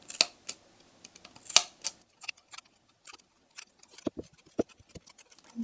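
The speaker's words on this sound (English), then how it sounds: "Now take your scissors and make small cuts at each of your markings." Scissors snip small cuts into a handmade boho Christmas ornament, producing sharp, isolated clicks and snips in irregular clusters, close and quiet with silence between them.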